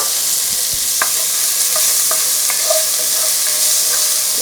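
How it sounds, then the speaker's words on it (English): Garlic and freshly added onions sauté in a pan for a sauce, making an even, fairly loud sizzle broken by light clinks and scrapes of stirring, with no speech. "When you first put it in the pan and it's being sauteed"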